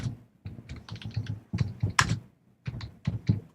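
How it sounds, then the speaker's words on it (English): Close, crisp typing on a computer keyboard during a wrestling podcast, bursts of quick key clicks separated by short pauses, alone without talk. "Who's typing?"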